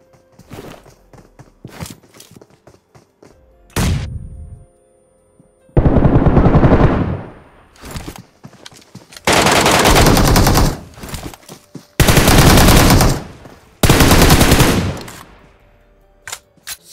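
Gunfire in the mobile battle royale game BGMI: several loud bursts of automatic fire, each lasting one to two seconds, separated by quieter gaps with faint footsteps and handling sounds.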